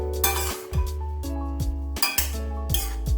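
A utensil stirs bottle gourd and shol fish curry in a metal pot, giving repeated clinks and scrapes against the sides over a steady background hum.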